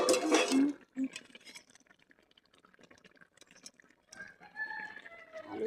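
A lid lifted off a cooking pot of simmering mixed vegetable curry with potatoes: a short metallic clink after a loud hissing burst, then quieter kitchen clatter and light sounds.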